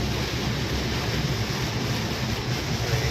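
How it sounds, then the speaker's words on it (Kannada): Strong wind and rain roar steadily around a truck in Europe, a loud, continuous broadband rush with low rumbling and no voices. "ಮಳೆ ಗಾಳಿ ತುಂಬ."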